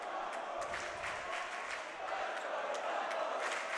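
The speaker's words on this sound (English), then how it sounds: "Jumbos getting a boost from their crowd here" A home crowd cheers and shouts during a Division III men's college basketball game between the Tufts Jumbos and Amherst, a steady roar with sharp accents from the stands.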